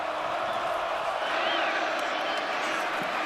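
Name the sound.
stadium crowd cheering at Arrowhead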